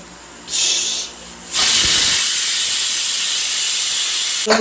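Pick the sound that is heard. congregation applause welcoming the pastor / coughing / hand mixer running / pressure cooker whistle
pressure cooker whistle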